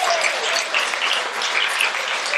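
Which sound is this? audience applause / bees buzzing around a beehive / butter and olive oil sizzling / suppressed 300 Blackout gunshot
audience applause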